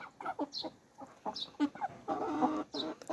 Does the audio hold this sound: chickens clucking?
yes